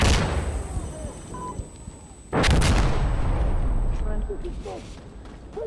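A grenade blast in the video game Insurgency Sandstorm, one sudden loud burst that cuts through the gunfire and lingers into a rumbling tail, with other shots crackling around it and players shouting briefly.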